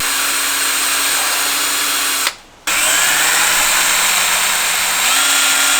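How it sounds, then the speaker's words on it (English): A power drill bores a hole through a scrap Mitsubishi Lancer part to route wiring on a cheap turbo build, a loud steady whine that cuts out for a moment and then resumes, close and unbroken by talk. "So don't really mind that we're just drilling into this"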